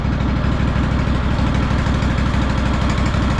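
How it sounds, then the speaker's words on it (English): A 2004 Craftsman DLT3000 lawn tractor engine idles steadily up close, a continuous low, even chug running alone with no gaps. "Listen to that idle."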